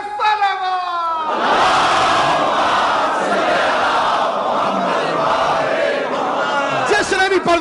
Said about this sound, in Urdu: حضرت ابو طالب علیہ السلام بلند تر صلوات.